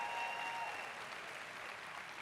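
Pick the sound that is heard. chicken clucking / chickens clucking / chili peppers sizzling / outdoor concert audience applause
outdoor concert audience applause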